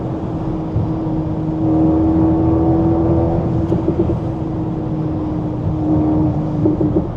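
A Mercedes-Benz SL43 AMG in race mode drones steadily on an autobahn at speed, its engine note rising slightly under constant road and wind roar, with no talking.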